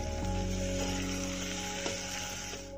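Chopped tomatoes frying in a pan for tori aloo ki sabji give a loud, steady, dense sizzle that holds close and continuous throughout, with a faint steady hum underneath.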